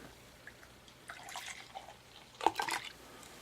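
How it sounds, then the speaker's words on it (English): Pyramid red session ale is poured straight down from a bottle into a glass. The faint liquid splashes and drips rise to a brief fizzy gurgle near the end, close up in a quiet room. "Let's try pouring straight down."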